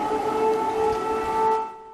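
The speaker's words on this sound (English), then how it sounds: "celebrations go on even as air raid sirens warn of imminent Russian attacks" Air raid siren wailing over Kyiv, Ukraine during a warning of Russian attacks: a sustained steady tone held loud and then fading out at the end, heard alone without speech.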